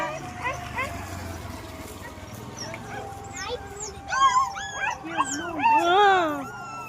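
A dog stuck down a drain opening whimpers and yelps in rising, wavering cries that build into howl-like whines, with voices talking in the background.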